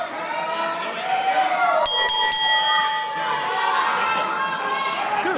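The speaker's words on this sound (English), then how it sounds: "the bell has sounded" A wrestling ring bell rings at the start of a main event, with a few bright clangs rising over a noisy arena crowd and a commentator's voice.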